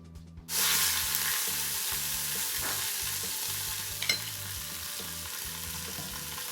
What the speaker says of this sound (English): now we are going to sear our pork roast.